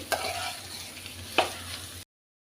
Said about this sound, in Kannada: ಇದನ್ನು ಕೂಡ ಹಾಗೆ ಹಸಿ ವಾಸನೆ ಹೋಗುವವರೆಗೆ ಫ್ರೈ ಮಾಡಿ